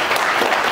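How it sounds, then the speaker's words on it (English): Audience at a live panel on mid-term rental niches claps in a round of applause, a steady dense wash of hand claps throughout the short burst, fairly loud and without talk over it. "round of applause for Vivian"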